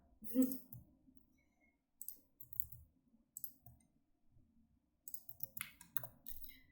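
Sparse, soft computer mouse clicks come in small clusters while drawing in modelling software, quiet and close, with long near-silent gaps between them.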